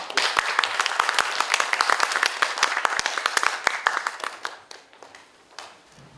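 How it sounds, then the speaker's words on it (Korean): Audience applause at a Korean university lecture on the Buddha, a dense patter of many hands clapping close and steady before thinning and fading over about six seconds. "박수 한번 주십시오."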